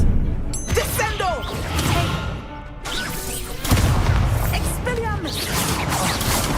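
Descendo spell cast in a Harry Potter video game: a loud whooshing magical burst with crashing impacts, running through the whole stretch with a brief lull near the middle, mixed with game voice chatter.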